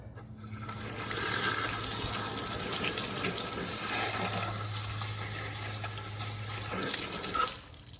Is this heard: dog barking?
no